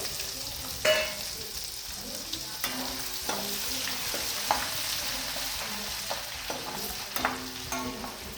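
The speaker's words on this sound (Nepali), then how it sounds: "अब यसलाई हामीले अलिकति गोल्डन ब्राउन हुने बेलासम्ममा डिप फ्राई गर्छौँ।" Garlic ginger paste frying in hot oil for a Nepali-style mutton pickle gives a steady close sizzle, broken by scattered scraping and clinking as a spoon stirs the pan.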